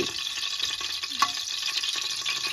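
Whole spices such as cinnamon, bay leaf, mace, cardamom and star anise sizzle steadily in hot oil and ghee for mutton biryani, a dense continuous frying hiss with faint stirring scrapes, close and fairly loud, with no talking.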